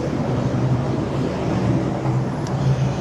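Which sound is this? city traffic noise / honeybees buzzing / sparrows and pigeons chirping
city traffic noise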